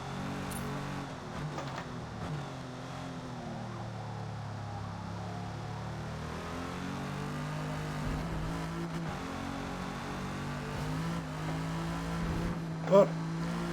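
A 1956 Jaguar D-Type engine in Forza Motorsport at Maple Valley drones and shifts pitch through gear changes as it accelerates, while someone talks over it throughout.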